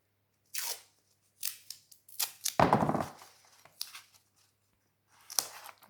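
Scissors snip pieces of tape for a paper box, making several short, sharp cuts spaced apart with brief crinkles and handling noises between them, close and otherwise quiet.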